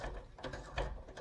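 An old thermostatic valve head is unscrewed by hand from a home radiator, giving a brief, faint run of gritty ratcheting clicks at close range, with no talking.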